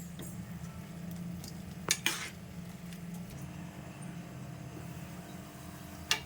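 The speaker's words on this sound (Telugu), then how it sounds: "చూడండి ఫ్రెండ్స్ ఎలా ఉడుకుతుందో." Okra tamarind curry simmering in a pot, a soft steady bubbling and hiss running throughout, broken by a few sharp clinks of a utensil against the pot.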